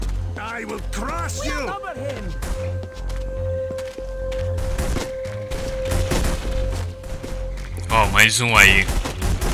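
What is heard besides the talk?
gunfire in the video game The Punisher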